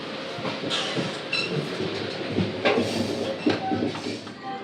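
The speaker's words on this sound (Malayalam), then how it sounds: "ട്രെയിൻ ഇപ്പോൾ ഇരിഞ്ഞാലക്കുട റെയിൽവേ സ്റ്റേഷൻ എത്തി" A passenger train stands at Irinjalakuda railway station amid a steady low rumble, with occasional clanks and shuffling, and faint voices in the background.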